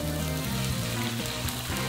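Tomato sizzles as it is stir-fried in hot oil in a wok or pan, a brief, even crackle of frying with faint scraping of stirring.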